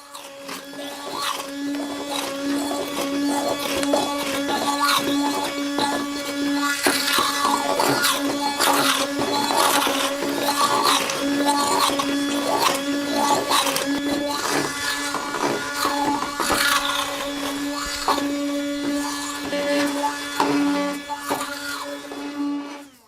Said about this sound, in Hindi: अब इसमें दही मिलाकर दोबारा 1 मिनट के लिए ब्लेंड करेंगे ताकि स्मूथ सी ग्रेवी तैयार हो जाए।